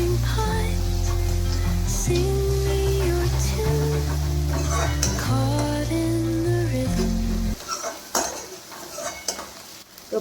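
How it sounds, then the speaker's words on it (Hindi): Onions frying and sizzling in a pan while being stirred, with steady close kitchen sizzle and scraping, then softer clatter at the end; background music plays under it. "तो प्याज को इस तरह से अच्छी तरह से पकने दे, अच्छा सा पिंक सा कलर आने दे।"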